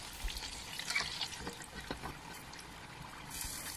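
Soft, continuous sizzling and bubbling of popcorn chicken pieces deep frying in hot oil in a pan, fairly quiet and close.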